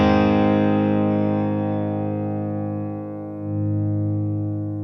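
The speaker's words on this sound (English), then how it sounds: "I'm just going to crank the bass up." A sustained, heavily distorted electric guitar chord through a Blackstar St James amp plugin with the bass turned up rings out with a deep, boomy low end, decaying slowly with a brief dip near the end.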